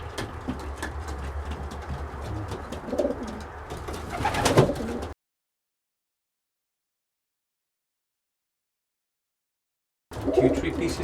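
Pet birds, apparently pigeons, coo softly and restlessly before feeding at a bedtime check, low murmuring calls over rustling, then a stretch of silence before the cooing resumes.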